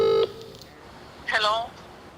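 A telephone dialing tone, a short, loud beep at the very start, followed by a brief spoken word after a pause.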